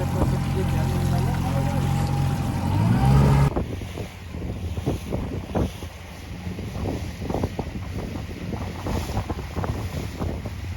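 Steady wind noise buffets the microphone at sea, with water sloshing against a boat hull in irregular bursts throughout.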